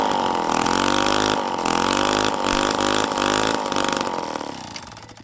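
A homemade two-stroke engine built from hardware-store parts runs at wide open throttle, a loud, steady, buzzy high-revving drone that wavers slightly before easing off near the end.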